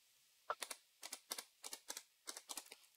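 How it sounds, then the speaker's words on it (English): Someone types a password on a computer keyboard in short clustered bursts of crisp key clicks, close and quiet, with brief pauses between groups of keystrokes and no talking. "type in your password"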